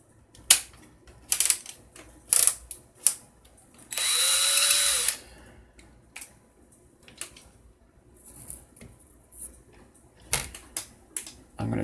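A handheld drill whirs in one short burst, up close, while building an RDA vape atomizer, amid scattered clicks and clatter from handling parts.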